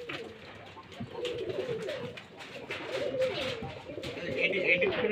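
Soft cooing from Giribaz pigeons in a loft with eggs and young birds continues steadily, with a voice talking over the birds throughout.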